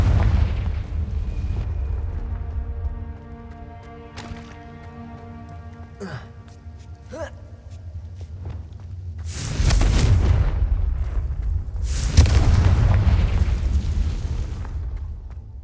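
Confringo blasting-curse explosions in the Hogwarts Legacy video game: two heavy, roaring bursts in the second half, each a broad rumbling blast lasting a couple of seconds, over a droning game music bed with a few sharp cracks between.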